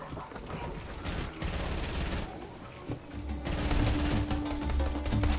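Fortnite battle royale gunfire: a steady spray of distant and mid-range shots across several seconds, fairly faint, layered over game ambience and music-like tones.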